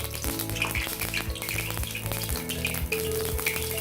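Quarter cup of mustard oil sizzles in a pan for a tempering, a continuous crackling fry with scattered pops and spits, moderately close and steady throughout, with no talking.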